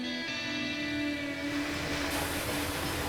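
A train running in the game Railway Empire 2: a steady, loud rolling rumble with a sustained tonal drone, no voices.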